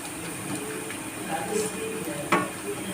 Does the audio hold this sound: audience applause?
no